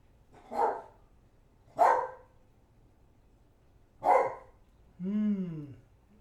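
A dog barks outside, giving three separate sharp barks spaced apart and then a longer rising whine, clear and moderately close against faint background noise.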